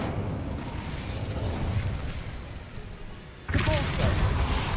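Spell blasts from Confringo, Bombarda and Incendio in the Hogwarts Legacy video game, a steady rumbling roar of magical fire and explosions that swells into a louder burst near the end.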